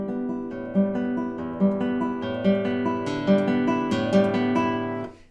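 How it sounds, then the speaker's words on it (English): An instrument plays a rising and falling arpeggio of clear sustained notes, beginning softly and growing steadily louder over several seconds before the sound cuts off at the end. "let's start with an arpeggio, and what we want to do is to apply a crescendo to it first."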